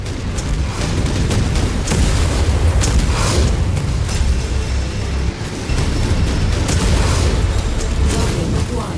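An enemy mech being destroyed in the MechWarrior 5 battle, with continuous loud booming explosions and heavy weapon fire rumbling throughout, mixed with faint radio-style voices.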